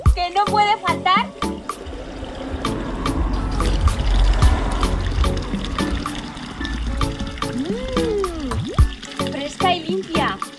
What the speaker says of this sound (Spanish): Tenemos aquí una fuente que vamos a probar el agua, a ver qué tal está.